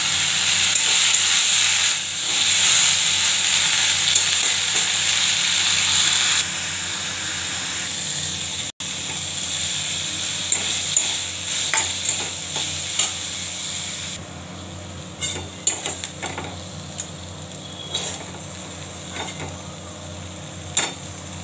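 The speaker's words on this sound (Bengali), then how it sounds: "মেথি শাক ভাজা হয়ে গেছে।" Fenugreek greens frying in oil in a wok, a steady loud hiss and sizzle that drops partway through, with a few clinks and stirring scrapes later.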